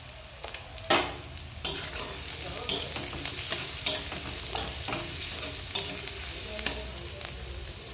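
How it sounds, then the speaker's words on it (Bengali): Chopped onion sizzles in a hot pan while a utensil stirs it, producing a steady fry hiss broken by sharp scraping knocks every second or so, close and clear without talk. "পেঁয়াজটা একটু ভাজা ভাজা করে নেবো।"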